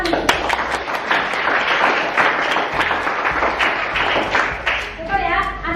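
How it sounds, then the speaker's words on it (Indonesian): A classroom of students claps together after a lesson on digestion, a brisk run of overlapping hand claps with a teacher's voice and other chatter mixed in toward the end. "tepuk tangan."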